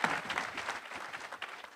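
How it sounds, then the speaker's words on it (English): Audience applause fills a town hall during a forum on Namibian governance, a dense, steady burst of many hands clapping up close, with no talking over it. "Let's give the Honorable Ivulaitana a round of applause"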